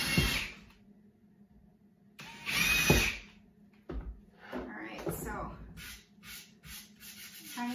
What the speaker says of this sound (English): I am going to just drill a tiny pilot hole right there on the marks